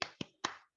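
Three sharp hand claps ring out in a rhythmic pattern during a classroom cheer, with two quick claps followed by a slightly stronger third, each short and fairly faint.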